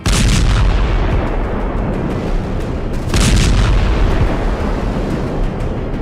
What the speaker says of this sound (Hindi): दावा किया जा रहा है कि रूस ने इस्कंदर मिसाइल से यूक्रेन के खार्किव में प्रचंड मिसाइल